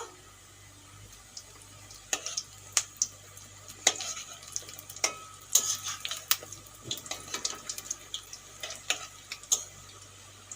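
Egg fritters fry in a pan: quiet, sporadic crackles and sharp pops over a soft hiss, close by and without talk.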